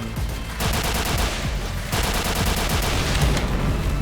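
Bursts of rapid gunfire crackle through an online shooter match, dense overlapping shots with brief pauses, loud and close throughout.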